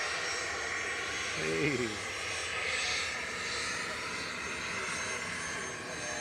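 FlexJet Embraer Praetor 600 business jet at Manchester Airport, a steady mid-distance engine rumble and hiss with a brief spoken word over it.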